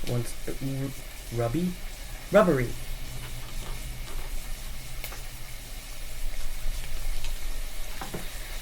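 Vegetables sizzle and fry steadily in a pan, with some stirring, under a person talking close by in a home kitchen.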